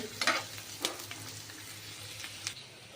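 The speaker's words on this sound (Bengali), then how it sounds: "এখন আমি পেঁয়াজ, রসুন, কাঁচামরিচটাকে ভালোভাবে ভেজে নিচ্ছি।" Chopped onion, garlic and green chili frying in a pan, a soft steady sizzle with a few sharp scraping taps of a spatula scattered through, fairly quiet and close.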